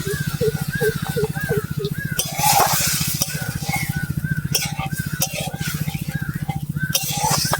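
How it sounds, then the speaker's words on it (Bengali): Onion and poppy-seed paste with chili powder being stirred in a pan, a steady scraping and clinking rhythm with soft sizzling underneath, close and fairly loud with no talk over it. "ভালো করে নেড়ে চেড়ে দেবো"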